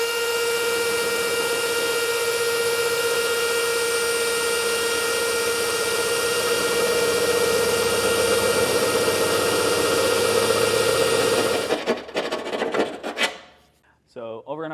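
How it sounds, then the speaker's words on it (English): A drill with a 9/16 bit bores through the steel cross member of a 2024 Ford pickup frame. A loud, steady grinding whine runs unbroken for about twelve seconds, then cuts off into a few scattered clatters. "we'll switch back to our 9/16 bit and we can drill through there"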